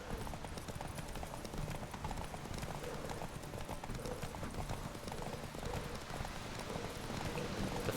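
Hoofbeats clip-clop steadily as Roach the horse gallops in The Witcher 3, faint and continuous, under dense game ambience and music.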